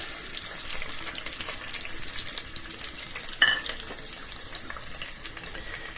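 Chopped onion, garlic and green chilli fry in oil in a pot, a steady broadband sizzle throughout with one sharp clink of utensil against metal midway; no talking.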